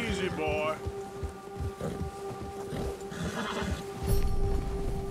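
A horse in the video game Red Dead Redemption 2 whinnies in fright at a bear, a sharp neigh near the start followed by hoof clops and snorting over wind, with a voice speaking in German.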